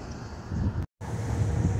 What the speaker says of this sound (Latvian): Ir vējš